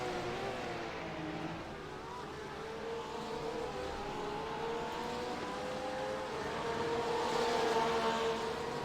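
GT3 race cars battle for the lead at Motorland Aragon, engines droning loudly and continuously with pitch rising and shifting as the cars push close together, a steady wall of racing engine noise with no voices.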